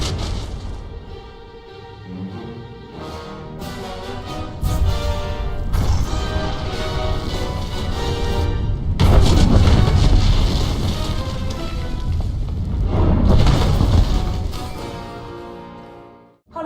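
A large explosion in the video game Star Wars: The Old Republic, a rolling series of heavy crashes and rumbling booms that swell to a loud peak and then die away, with no talk.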